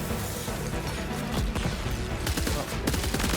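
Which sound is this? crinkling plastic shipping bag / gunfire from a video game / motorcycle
gunfire from a video game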